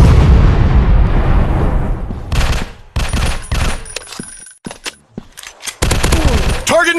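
Gunfire in a zombie shooting video game, a dense burst of rapid shots with booming low end at first, then sparser single shots and short bursts separated by gaps, with game effects between them.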